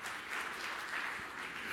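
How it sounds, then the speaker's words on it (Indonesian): A church congregation gives a faint, steady wash of applause for under two seconds, heard from a distance with no talk over it. "Tepuk tangan yang meriah untuk kamu."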